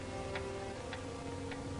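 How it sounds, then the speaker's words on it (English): Three evenly spaced ticks of a clock, a faint sound effect in a 1944 radio drama, sit over a low, hissy background. "The ticking of the clock"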